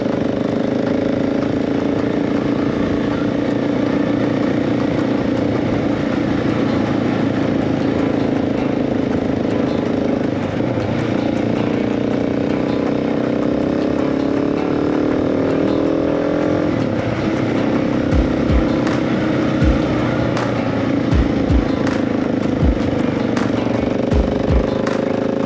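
A Husqvarna 701 motorcycle ridden off road holds a loud, steady engine drone with shifting pitch as it revs and eases, and wind rumble plus occasional thumps from rough ground come in toward the end.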